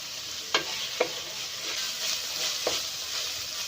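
Cabbage and noodles fry on a high flame with a constant close hiss, while a spatula scrapes and knocks against the pan in three or four distinct strokes.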